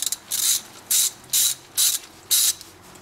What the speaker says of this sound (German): Und auch gleich den Deckel vom Ölfilter schrauben wir gleich ab